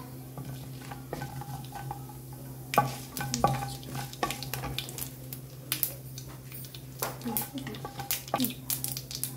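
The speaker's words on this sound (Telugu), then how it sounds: "ఆయిల్ వేడైన తర్వాత అందులో తాలింపు గింజలు వేయాలి. ఇప్పుడు తాలింపు గింజలు వేసుకోవాలి." Mustard and cumin tempering seeds dropped into about five spoons of hot oil in a kadai, crackling and sizzling with spoon stirring and scattered pops, close and moderately loud.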